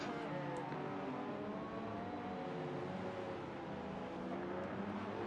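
A Lamborghini accelerates in a racing video game, a steady, full engine drone with rising harmonic whine, continuous and fairly dense throughout.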